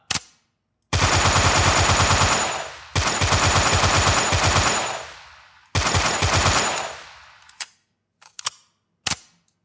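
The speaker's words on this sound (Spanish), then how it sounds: "podríamos llegar a disparar hasta 30 veces y luego ya recarga" Automatic gunfire from a shooter weapon in a Unity video game: three long rapid-fire bursts of sharp, evenly spaced shots, loud and close, followed by a few isolated single shots and brief clicks.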